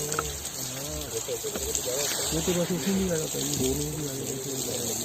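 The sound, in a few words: water spraying from a manual fogger pipe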